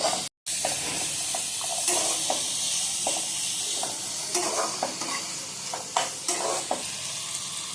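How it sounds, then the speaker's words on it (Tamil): Mint and coriander leaves sautéing in oil in a pan for paneer kurma, with a steady sizzle and repeated stirring scrapes over nearly eight seconds, briefly cut near the start. "கூட கொஞ்சம் புதினா, கொஞ்சமாக கொத்தமல்லி சேர்த்து எல்லாத்தையும் ஒன்றா வதக்கிக்கணும்."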